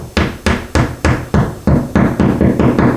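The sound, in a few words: hammer tapping a drywall anchor into a tile wall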